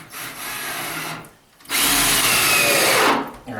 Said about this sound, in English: then screw it in to the wall stud